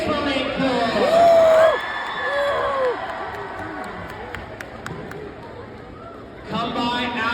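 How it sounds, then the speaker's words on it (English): School assembly crowd cheering and whooping for US Marines at a BMX show, loud shouts and yells swelling around the second mark, then settling into a lower steady crowd din before rising again at the end. "a huge round of applause to the few, the proud, the United States Marine Corps"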